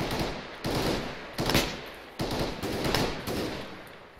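Gunfire in a military video game, repeated bursts of automatic fire at a moderate distance, a few seconds each with short gaps between, and no voices over it.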